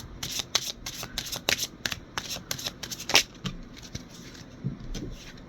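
Tarot cards are shuffled and handled up close in quick, papery riffling bursts and soft slaps, with short pauses between shuffles and no talking.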